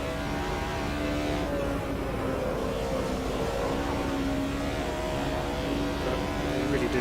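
A naturally aspirated touring car engine in the Automobilista 2 racing game drones at steady high revs, a continuous tonal whine running evenly through the clip.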